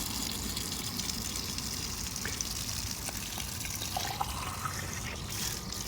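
Water from a pipe tap gushing steadily into a bottle, a continuous close rushing flow that stays even throughout with no voices.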